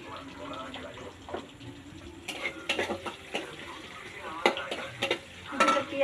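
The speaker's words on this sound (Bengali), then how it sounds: "পেঁয়াজ ভাজছি, লাল লাল করে একটু ভেজে নেব" Onions fry in hot oil in a pan for a home-cooked chicken kosha, with a steady sizzle broken by irregular scraping and clinks as a spatula stirs, growing busier toward the end.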